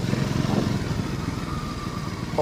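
A motorcycle engine runs at a steady idle inside a detailing shop in Dibrugarh, a close, continuous mid-pitched rumble with a light mechanical clatter and no talking.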